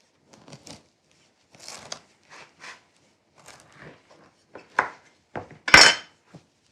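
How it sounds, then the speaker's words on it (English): A knife saws through a crusty sourdough loaf in a series of short crackling, crunchy strokes, sparse at first and then louder and closer together toward the end. "How do you cut sourdough?"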